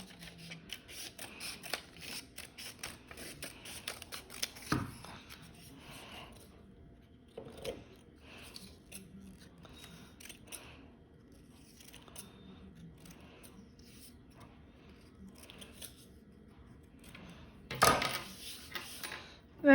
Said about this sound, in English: turn the paper over and just snip it along the edge here